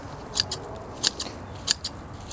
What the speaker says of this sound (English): So I'm going to take these shears, or you even can take some scissors,